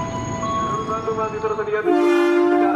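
KRL commuter train TM 6008 pulls out of track 5 at Jatinegara station in Jakarta, bound for Kampung Bandan via Pasar Senen. A loud, sustained tonal horn sounds over rumbling station noise, then shifts to a lower, steadier pitch midway.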